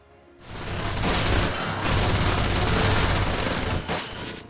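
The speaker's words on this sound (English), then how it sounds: "everyone just starts shooting at each other" A sustained gunfire shootout from a Steven Seagal action movie, dense overlapping shots and bursts that start abruptly after a brief quiet moment and stay loud and continuous, with a slight dip before fading near the end.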